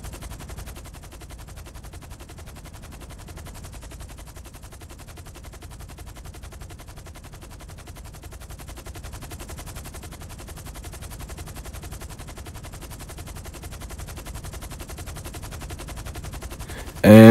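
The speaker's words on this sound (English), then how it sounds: "friends start shooting and shit" Video game gunfire, a long stretch of rapid automatic shooting at a low, steady level that continues throughout the clip.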